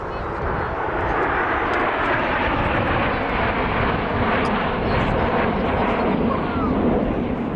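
An airplane roars overhead at an aerobatic air show, a steady, loud, broad engine drone that fills the whole stretch without letting up.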